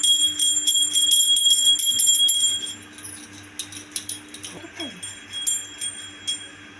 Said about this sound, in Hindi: बजाओ घंटी